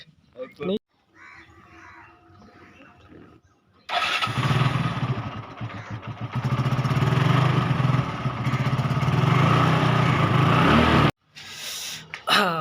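A motorcycle engine starts and then runs loudly and steadily for several seconds before cutting off. A voice speaks briefly, and crows caw faintly in the background.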